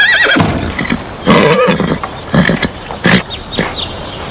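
A horse neighs and whinnies loudly in several bursts at a stable, with some hoof clatter and shuffling around it.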